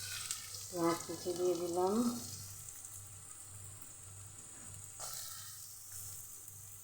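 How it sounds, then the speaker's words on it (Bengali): Minced garlic and chopped onion fry in oil for a Manchurian dish, with a soft, steady sizzle throughout, a brief spoken phrase near the start and a sharper burst of crackling partway through. "রসুন দিয়ে দিলাম তেলের মধ্যে। এবার আমি দিচ্ছি পেঁয়াজ কুচি"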